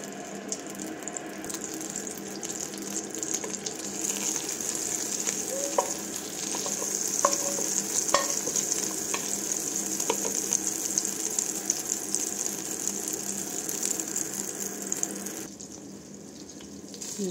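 Butter melts and sizzles steadily in a pan before vermicelli goes in for shariya rice, a continuous close frying hiss with occasional light scrapes and clicks.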